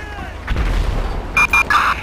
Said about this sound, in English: Explosions going off.